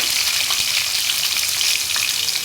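Masala and chicken frying in a pan for aloo chicken curry, a steady dense sizzle with small crackles and pops throughout, close and continuous with no talking.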